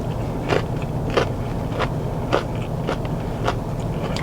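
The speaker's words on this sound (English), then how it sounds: "Let's try some rice with the katsu." Rice with chicken katsu from a plate lunch is chewed close up, with soft crunchy bites coming in a steady rhythm about every half second, no talking.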